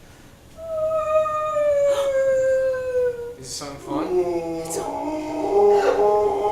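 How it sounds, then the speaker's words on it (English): A long, mournful whale call glides slowly downward in pitch for about three seconds, then breaks into shorter wavering moans while voices talk over it. "It's a whale."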